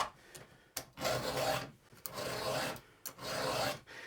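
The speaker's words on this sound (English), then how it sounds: "I am filing this probably at a different angle than Jason normally cuts with" A chainsaw file rasps across a chainsaw chain in three steady strokes, close and alone, each a scratchy pass with short pauses between.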